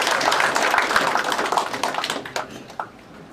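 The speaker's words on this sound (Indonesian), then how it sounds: "Kita beri tepukan sekali lagi." Dense applause from an audience at a meet-and-greet event with the Sabah football team rattles on steadily, then thins out into a few scattered, fading claps near the end.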